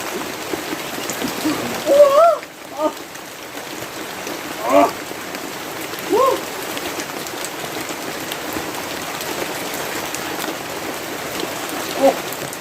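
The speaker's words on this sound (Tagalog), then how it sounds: "kasi malakas yung ulan" Heavy rain pours steadily with a dense hiss, while a few brief voices call out faintly over it.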